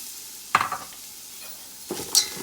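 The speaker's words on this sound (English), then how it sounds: "I'm gonna add some frozen green peas because it's frozen. I want it to cook up a little." Frozen green peas cooking in a fried rice pan, a soft background sizzle broken by two brief stirring scrapes, close and quiet, no talking.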